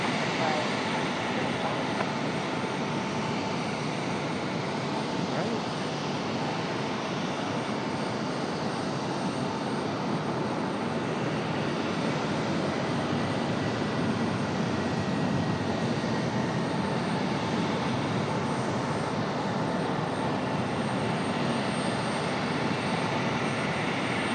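FedEx Airbus A300 jet on runway 23 right at Raleigh-Durham, a constant broad engine roar and hiss holding steady at moderate distance, with faint voices mixed in underneath.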